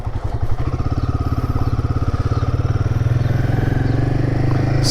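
Royal Enfield Himalayan 450 motorcycle engine running steadily while being ridden, a loud, close, continuous low throbbing drone with a regular pulsing beat and no talk over it.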